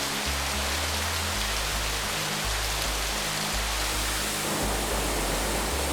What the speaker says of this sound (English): So here's our first waterfall. It's a little bit of a splashy spot